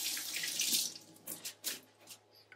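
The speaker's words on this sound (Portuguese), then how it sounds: "Deixa eu lavar a mão aqui" Hands being washed under a running kitchen tap while preparing a roast beef hump for the oven, a steady close water spray broken by a few splashy bursts, with no talking.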